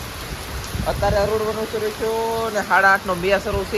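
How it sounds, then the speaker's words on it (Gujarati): Heavy monsoon rain driven by wind hisses steadily in the background while a person talks over it nearby. "હવે તો પવન પાછો એટલો છે અને વરસાદ એટલો છે આમ જુઓ."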